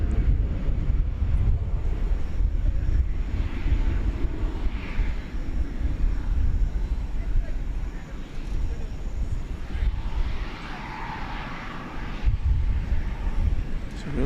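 An airliner departing from DFW Airport at night produces a continuous low engine roar with wind rumble, fairly loud and steady throughout, while a person speaks over it.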